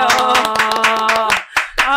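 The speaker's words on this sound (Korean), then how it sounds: "푸르당 TV의 백혜식 대표님을 큰 박수로 맞이해 주세요" Audience clapping to welcome the head of Purudang TV at a Korean political rally, a burst of close, dense claps over a tonal background, breaking off briefly near the end before resuming.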